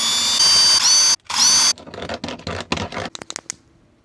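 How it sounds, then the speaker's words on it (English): A power drill whines loudly in bursts, broken by a brief pause, followed by scraping, clicking mechanical sounds as a drill bit removes metal burrs inside a van. "Drill bit to get rid of these burrs"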